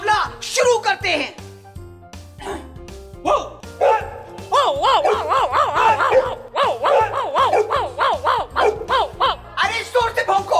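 A man imitates dog barking, with loud repeated wavering bark-like yelps and howls in rapid bursts over background music.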